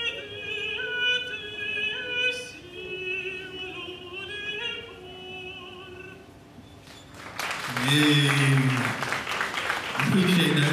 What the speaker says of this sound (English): I appreciate that clap